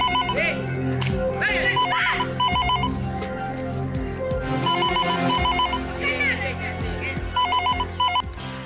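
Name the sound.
telephone ringing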